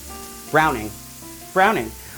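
Steak sears in a hot pan, a steady sizzle running throughout beneath two short bursts of voice.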